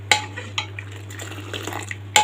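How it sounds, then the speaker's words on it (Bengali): Milk is stirred with a big ladle lifted high, giving soft splashes and sloshes with sharp metal clinks at the start and end against a steady low hum. "দুধটাকে আমি বড় হাতা দিয়ে এইভাবে উঁচু করে করে এরকম করে নাড়তে থাকি"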